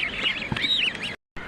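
Iraqi geese honking at a busy bird market, a brief run of close, nasal honks and calls that ends in a sudden cut to silence.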